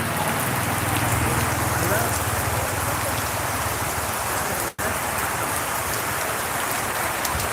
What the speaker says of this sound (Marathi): भरपूर प्रमाणात दंगा घातलेला आहे पावसानं